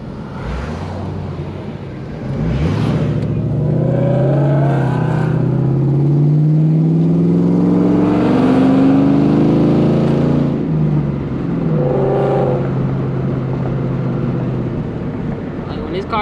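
A Ford Mustang with a Coyote V8 accelerates hard on back roads, the engine note climbing through long rising pulls and dropping between gear changes, loud and close from inside the car, with occasional voices.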